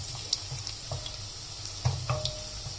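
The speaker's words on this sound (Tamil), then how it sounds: "பூண்டு லைட்டாக பொன்னிறமாக ஆகிற அளவுக்கு வதக்கிக்கலாம்." Garlic sautéing in hot oil for a tomato thokku, a soft continuous sizzle with faint crackles and small pops, close and fairly quiet, no talking.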